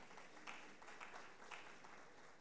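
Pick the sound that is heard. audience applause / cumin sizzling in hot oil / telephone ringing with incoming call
audience applause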